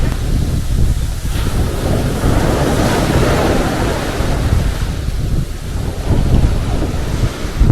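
Surf washing onto a wet-sand beach in the UK, a steady loud roar of breaking waves with gusty wind buffeting the microphone throughout, no voices.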